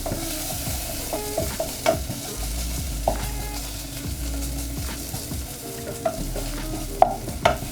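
Steak seasoned with salt and pepper sizzles in a pan while being stirred, with steady frying hiss and repeated scraping and clinking of the utensil against the pan, close and clear, without speech.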